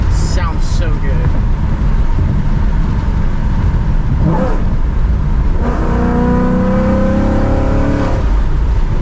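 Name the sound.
rebuilt 2018 Mustang GT Premium engine revving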